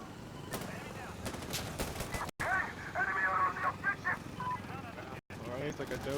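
Heavy .50 cal fire tears through a wall in Insurgency Sandstorm as repeated bursts of gunfire, with voices talking over the shooting.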